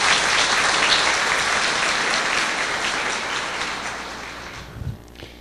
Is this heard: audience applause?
yes